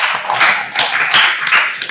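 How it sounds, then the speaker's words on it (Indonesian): Classroom applause for students who shared their opinions during an informatics lesson: a steady, dense patter of many hands clapping together for about two seconds, close and fairly loud, with no talk over it. "Tepuk tangan untuk teman-teman kita yang sudah berpendapat"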